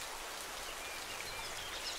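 Rain falls steadily on an autumn forest of old oaks, birches and wild chestnuts, a dense even hiss of drops on leaves and ground with no voices.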